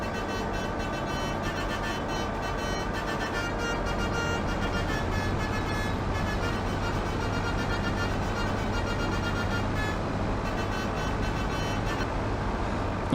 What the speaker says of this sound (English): Action honk.